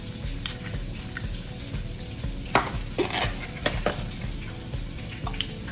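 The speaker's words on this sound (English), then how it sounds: "you are going to give that a nice stir" Buttermilk waffle batter with egg and melted butter being stirred in a bowl, a steady close scraping and swishing with a few sharper clinks of the utensil against the side, no voices.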